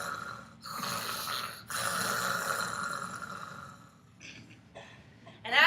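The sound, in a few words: storyteller imitating a wolf snoring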